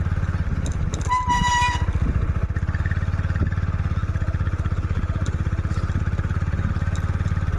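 A motorcycle rides close beside a runner during police recruitment running practice in Assam. Its steady, throbbing engine runs loud and continuous, with a short horn toot near the start.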